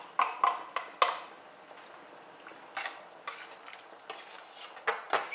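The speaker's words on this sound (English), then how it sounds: "Kind of just stir it around a little bit" A utensil stirs Irish moss with linseed and nutmeg in a pot, making quiet, irregular metallic clinks and scrapes against the sides with short pauses between.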